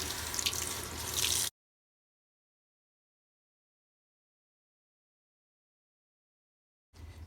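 An old wig is rinsed under running tap water. A steady splashing stream runs at first, then cuts to silence, and the flow comes back briefly at the very end.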